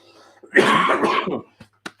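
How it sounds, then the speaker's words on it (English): A single harsh cough-like burst, close and fairly loud, followed by a couple of short sharp throat sounds after a brief pause. "Excuse me, I'm about to cough."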